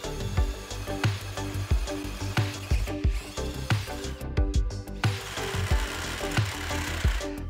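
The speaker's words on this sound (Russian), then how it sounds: "зажмем шайбу в тиски и ступенчатым сверлом сделаем отверстие побольше." A step drill bit bores into a steel washer clamped in a vise, producing a rhythmic series of grinding, chattering pulses that repeat steadily at close range.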